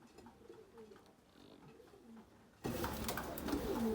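Pigeons in a coop with newly hatched young coo in low, repeated murmurs, close by, with a rise in rustling and louder background noise toward the end.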